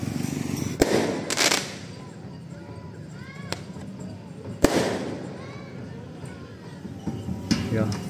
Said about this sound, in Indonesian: ada kembang api kita lihat barusan